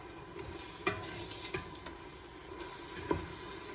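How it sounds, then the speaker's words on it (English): Soft, steady sizzling of onions and pork in a pot with a few sharp clinks and scrapes of stirring, fairly quiet and without speech. "You can hear it sizzling good."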